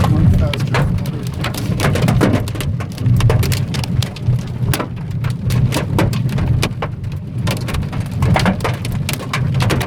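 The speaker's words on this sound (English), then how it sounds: "Hail is small." A hailstorm in the Andes near Mendoza, with small hailstones pelting a hard surface in a dense, irregular clatter that is loud, close and continuous throughout.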